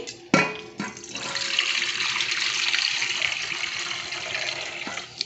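Finger millet (ragi) grains being washed in water at home, a steady rushing pour of water with splashing that starts after a sharp knock and carries on loud and close throughout.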